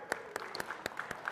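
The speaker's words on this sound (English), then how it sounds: "Can we get a round of applause for Crystal?" Sparse audience applause at a keynote for car dealership professionals, a handful of distinct faint claps in an irregular rhythm.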